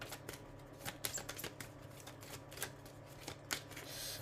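Tarot cards being shuffled by hand, a soft, quiet run of riffling and patting taps close by, with no talking.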